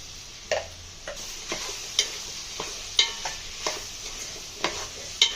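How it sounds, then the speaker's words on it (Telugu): A spoon stirs turmeric into cooked sambar vegetables in a pot. Regular clinks and scrapes of the spoon against the pot ring out about once a second over a faint, steady simmering hiss. "పసుపు యాడ్ చేసుకొని ఇలా బాగా కలుపుకోవాలి."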